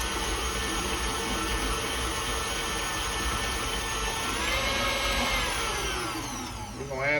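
An electric hand mixer whirs steadily as it creams about a cup and a half of room-temperature butter, three sticks' worth, for an old-school white wedding cake, the motor pitch shifting near the end as it slows.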